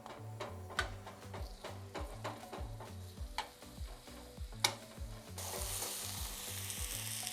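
Beef chunks fry in a 1970 crockpot for pot roast stew, a close, steady sizzle with regular ticking clicks and stirring scrapes, turning into a louder, denser hiss near the end, with no talk.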